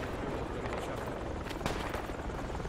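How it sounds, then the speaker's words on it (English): Helicopter flying in the military shooter game Project Reality, a steady broadband rotor and engine roar filling the scene at fairly high level, continuous without clear breaks. "Where's the chopper at? Direction?"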